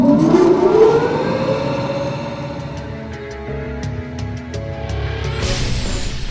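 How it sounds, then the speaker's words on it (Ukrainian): A loud air-raid alarm siren in the Skelya bunker winds up in a rising wail, then settles into a sustained drone with clanking mechanical noise underneath. "Ще більше вражає тривожна сирена."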